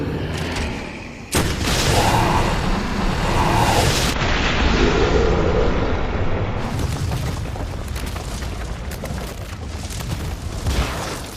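A weapon blast slams into the Tyrant in Resident Evil 2 Remake, setting off a loud, heavy booming impact with a long rumbling tail, followed by a dense roar that fades over several seconds, with no talk.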